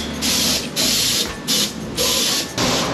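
A spray gun hisses loudly as it lays undercoat on a Suzuki APV van, firing in several short close bursts separated by brief pauses.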